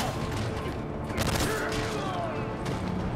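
Gunfire from a weapon in the Call of Duty: Modern Warfare 3 campaign, heard as a dense run of rapid shots with booming impacts and mechanical clatter, with a player's voice talking over it.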